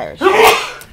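A single sharp human sneeze, close and loud, rising quickly and fading within a second in an otherwise quiet indoor room.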